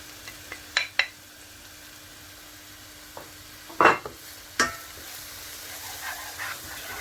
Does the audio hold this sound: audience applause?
no